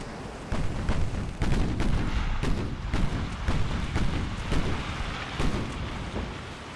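Heavy battleship guns fire broadsides in the naval strategy game Ultimate Admiral: Dreadnoughts, set in 1890. The booms come as a rolling series of deep, thunderous blasts over a continuous low rumble.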